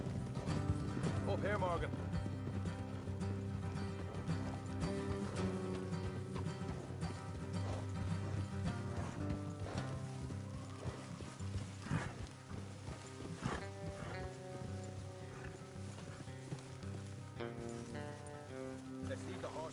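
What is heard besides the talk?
horses walking, from video game Red Dead Redemption 2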